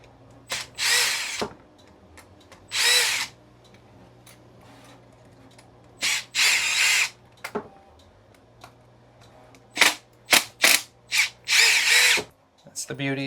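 A power drill backs screws out of casting molds for a Batman cowl, several short, loud whirring bursts in irregular runs with pauses between them, close by, with a few ticks and clicks of handling.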